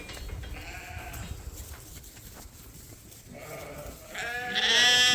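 Ewe lambs bleat on a sheep farm as they are let out, a couple of close, loud calls rising toward the end over a soft outdoor background.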